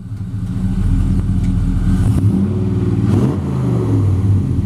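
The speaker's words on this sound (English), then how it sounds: "Rev it up a little bit, Gary." A 1956 Chevrolet half-ton custom truck with an LS1 V8 revs up from idle, its deep engine note climbing in a couple of throttle blips before settling, loud and close with no talk.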